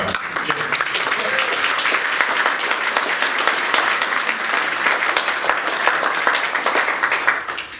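A hall audience applauds warmly at a community gathering, dense sustained clapping that stays loud and even for several seconds, with no voices standing out.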